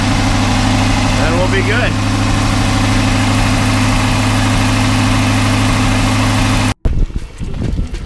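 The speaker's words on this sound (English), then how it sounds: "I just shut the engine off" Inboard boat engine idling during winterizing with coolant circulating, a steady low throbbing drone under brief talk that cuts off abruptly near the end, leaving faint room noise.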